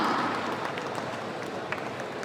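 Audience at a Balti movie trailer launch event in Kochi applauds to welcome Hamna onto the stage, a brief dense burst of clapping that gradually thins out.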